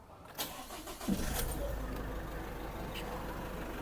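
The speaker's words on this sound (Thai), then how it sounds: "เดี๋ยวผมจะลองสตาร์ทเครื่องให้ได้ฟังเสียงเครื่องยนต์" A 2021 Isuzu D-MAX Hi-Lander 1.9 diesel pickup with automatic gear is started by remote key: a brief crank, then the engine catches and settles into a steady, quiet idle, heard up close.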